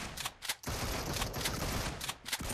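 Gunfire in the mobile game PUBG Mobile: rapid bursts of loud, cracking automatic shots with brief gaps between volleys, dense and close throughout.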